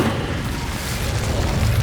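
Incendio fire spell blast in Hogwarts Legacy, a sustained roaring whoosh of flame with a deep rumbling low end, loud and steady for nearly two seconds.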